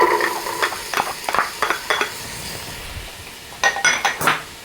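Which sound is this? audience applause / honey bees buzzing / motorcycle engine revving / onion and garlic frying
onion and garlic frying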